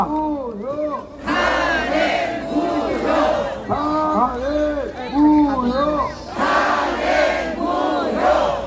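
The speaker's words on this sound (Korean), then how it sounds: "함성" A huge crowd of protesters packed onto Mapo-daero outside the Seoul Western District Court lets out repeated roaring battle cries in rising and falling waves, loud and dense.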